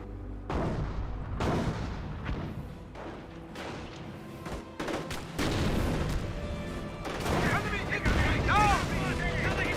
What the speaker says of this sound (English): Mortar does get destroyed there by the Panzer.